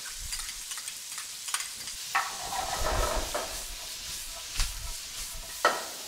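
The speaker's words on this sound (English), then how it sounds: "Once the bacon goes really crispy, then I can add the onion, and I've got some red onion to stir into that." Bacon, red onion and garlic sizzle in a hot pan with a constant frying hiss, broken by several louder scraping stirs of the utensil against the pan.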